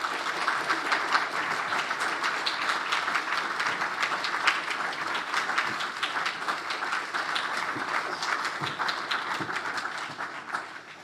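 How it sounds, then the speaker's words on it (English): Sustained applause from the audience after a professorial address, many people clapping in a dense, even patter that holds steady for about eleven seconds before easing slightly at the end. "You can all clap now."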